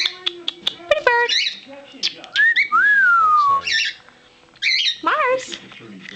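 Pet cockatiel whistling and squawking indoors, loud bright chirps and a long sliding whistle in close bursts, with people talking briefly in between.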